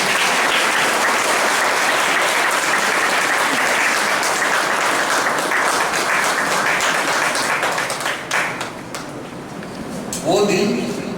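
Hall audience at a Hindi Day university event applauds to welcome a guest, dense steady clapping sustained for several seconds before thinning out, with a voice beginning to speak as it fades.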